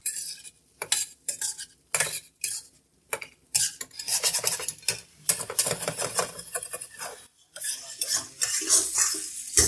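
Mutton karahi fries in a pan while a utensil stirs and scrapes it in quick, irregular strokes, with a soft sizzle underneath and metallic clinks.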